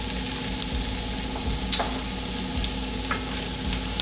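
Keto broccoli and cheddar soup hisses steadily in a hot pot, with faint scrapes and taps of stirring scattered through the continuous sizzle.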